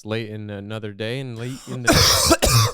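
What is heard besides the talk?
cough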